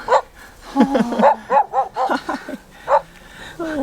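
A dog on a Peruvian mountain trek near Cusco barks in a quick series of sharp, close yips and bow-wows, with brief pauses between bursts.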